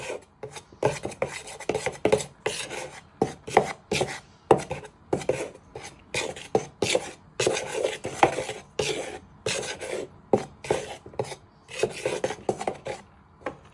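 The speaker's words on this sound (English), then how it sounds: "Just give that a little bit of a stir with your knife." A knife scrapes and stirs seasoned food for southern fried chicken wraps, a rapid run of short rasping strokes repeating steadily and fairly close.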